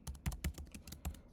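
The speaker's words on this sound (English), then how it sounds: "it's me typing rather" Rapid typing on a computer keyboard, a quick run of crisp, close key clicks in an uneven rhythm with no talking.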